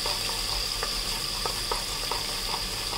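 Garlic ginger paste fries in a hot kadai for a paneer dish, giving a steady, close sizzle with a few soft stirring clicks and no talk over it.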